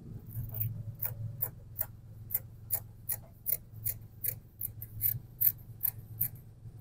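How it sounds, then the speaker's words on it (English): Scissors cut through fabric along a dress's front neckline with a steady run of crisp snips about twice a second, close and fairly quiet over a low background hum. "Then you can cut the front neckline."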